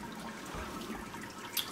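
Hot sparge water splashing over the mash in a homebrew mash bin, a brief close trickle with small drips and a tiny splash near the end.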